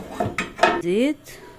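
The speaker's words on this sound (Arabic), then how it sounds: "اشغل بقى العينتين اللي جنب بعض دول عشان دي طويله، احط عليها الطاسه" A large, long metal frying pan is set down across two stove burners in a home kitchen, with a few close clanks and scrapes followed by a brief ringing metallic tone.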